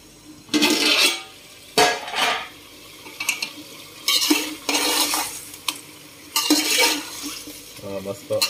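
Onions cook with chicken in a pan for Afghani pulao, bursts of loud metal spoon scraping and clanking against the pot over a low ongoing sizzle, close and irregular.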